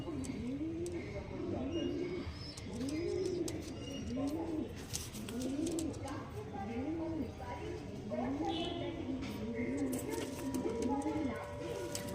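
Andhra pigeons coo repeatedly at close range, a rhythmic series of low rolling calls, with faint voices and occasional clatter in the background.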